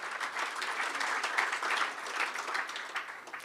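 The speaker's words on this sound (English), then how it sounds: "give him a round of applause" An audience at a climbing club awards evening claps in a sustained round of applause, a dense steady patter of many hands from start to finish.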